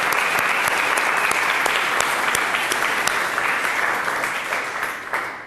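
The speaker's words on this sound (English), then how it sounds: "a big round of applause to the bride and groom" Sustained applause from a wedding crowd cheering the bride and groom, dense steady clapping with a few sharp nearby claps, holding level then fading slightly at the end.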